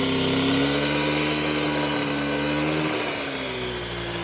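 The small two-stroke engine of a 1974 Piaggio Vespa Ciao moped idles with a steady buzzing drone, and its pitch and rhythm shift slightly partway through.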